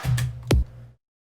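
Layered drum hit from a music production session combining kick, snare, clap, distant clap and a white-noise snare, one booming kick with a sharp snappy layer on top, decaying to silence within a second.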